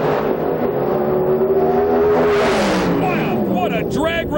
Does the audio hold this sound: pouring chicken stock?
no